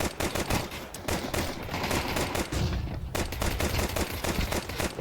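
Dense, continuous rapid gunfire from a Counter-Strike 2 tournament match, loud and relentless with overlapping shots and a brief lull midway.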